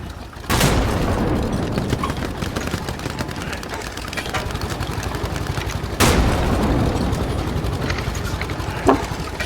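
Gunfire and explosions in the WWII shooter Hell Let Loose, a dense roar of rifle and machine-gun fire with two heavy booms, loud and continuous throughout.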